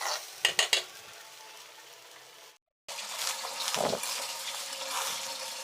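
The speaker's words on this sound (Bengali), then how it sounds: "আবার একটু ভালো করে ভেজে নিচ্ছি" Rice grains fry in a pan for khichuri, a soft sizzle with a few sharp utensil clinks and scrapes near the start, a brief silent gap, then steady stirring and frying.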